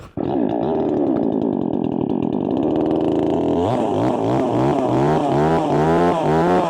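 A Pro Craft GS 52P petrol chainsaw starts and runs, its engine snarling loud and close, then revving up and down in steady surges.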